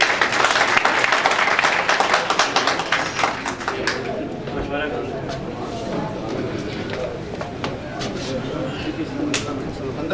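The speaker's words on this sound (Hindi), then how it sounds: "सुजाउल हक सिद्दीकी साहब के लिए तालियां बजा दूँ" A crowd at a Pakistani community gathering breaks into loud applause for an honoured guest, strongest at the start and then easing to a steady, softer patter of hands, with a voice briefly audible beneath.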